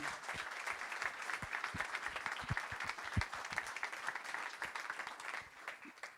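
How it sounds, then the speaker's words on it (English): A crowd applauds with scattered, steady clapping that continues evenly throughout, moderately distant. "Round of applause there."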